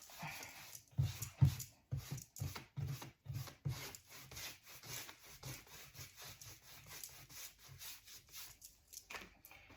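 Carbon black wax being rubbed onto a wooden surface in a thin, spread-out layer: a steady run of close, soft scuffing strokes repeating in an uneven rhythm, with no talking.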